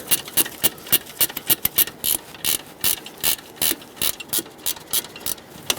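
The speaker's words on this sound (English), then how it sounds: "I'm going to thread it in a little bit more just so it can be further in before I install the stud" A bolt is worked into the mount of an alternator on a 2010-2017 Chevrolet Equinox, giving a fast run of loud, close metallic ratcheting clicks in quick bursts with no talk.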